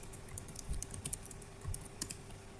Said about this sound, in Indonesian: Kita ketikkan lagi.